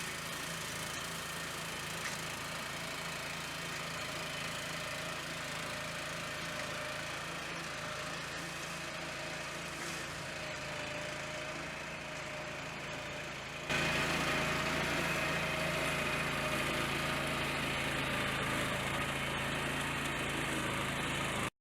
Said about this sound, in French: On a donc commencé avec la tondeuse à fléau pour couper et déchiqueter la végétation